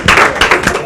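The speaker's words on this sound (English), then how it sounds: "give David Wright a big hand" Audience applause for David Wright at a recertification gathering, a short burst of clapping hands from a small crowd, close and fairly loud, with a cheer-like voice mixed in.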